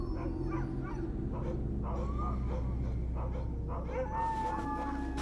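Sled dogs tethered at a remote Alaskan camp whimpering, yipping and barking in overlapping bursts over a steady low background, close and fairly loud throughout.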